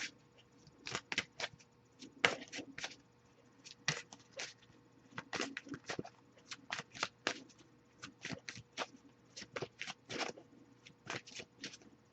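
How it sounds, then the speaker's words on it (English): Tarot cards are riffled and shuffled repeatedly in quick bursts with short pauses between, close and crisp, with no talking. "I'll give it a few more shuffles."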